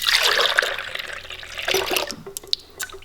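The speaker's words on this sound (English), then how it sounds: "all you're gonna do is pour your cream into your mixing bowl" Heavy cream poured into a mixing bowl in a home kitchen for making butter, a steady liquid stream and splash that tapers into trickles and a few drips, close and alone.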